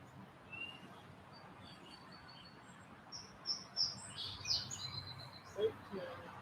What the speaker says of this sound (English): I don't know if you can hear the birds, but they are background music today.